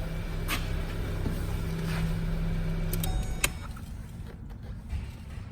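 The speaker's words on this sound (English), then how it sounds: "Let's go ahead and shut the car off." A 2018 Hyundai Tucson SEL with a 2.0 liter engine idles with a steady low hum, then shuts off about three seconds in, leaving a quieter background with a few small clicks and knocks.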